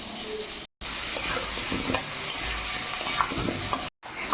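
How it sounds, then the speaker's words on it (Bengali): Potatoes frying in oil seasoned with salt and turmeric, a steady close sizzle with occasional stirring scrapes, broken by two brief silent gaps. "তেলে একটু নুন হলুদ দিয়ে আলুটাও ভেজে নেব"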